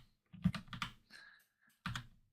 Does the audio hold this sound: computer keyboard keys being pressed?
yes